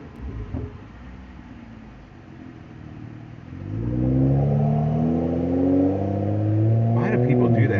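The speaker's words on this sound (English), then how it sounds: "You hear that exhaust? That's a BMW." A BMW car's exhaust revs in a parking lot, starting faintly and then swelling into a loud, sustained rising engine drone for the second half, with brief talk near the start.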